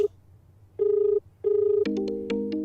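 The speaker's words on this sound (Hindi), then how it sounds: "मीनू, देखो किसका फोन है।" A telephone ringtone plays in repeated electronic tone bursts, followed by a louder, brighter ringing pattern of stacked tones; loud and close, no talk.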